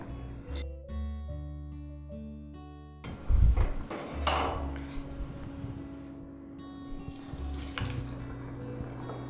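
Sweet potato vada fry in hot oil with a steady, fairly soft crackling sizzle that starts after a few seconds of tonal notes and continues to the end.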